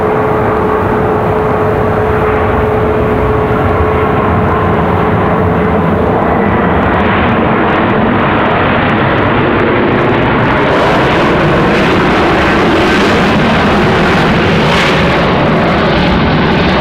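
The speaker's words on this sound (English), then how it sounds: "American Airlines 1566. This A319-100." An American Airlines Airbus A319-100 arrives at Raleigh-Durham International, its jet engines roaring loud and steady as it passes, with the rushing noise shifting as it goes by.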